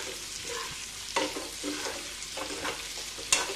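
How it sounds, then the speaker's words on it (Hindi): Chopped onions sizzle in a hot pan for a Bihari dhaba-style potato and pointed gourd curry, with several sharp scraping clicks as a spoon stirs them, loud and close. "और फटाफट से इसमें हम प्याज को डालेंगे। प्याज को चला लेंगे।"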